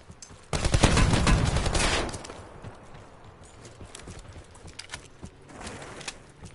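Shotgun fire in the battle royale game Call of Duty Blackout, a loud burst of blasts in the first two seconds followed by quieter clattering game noise.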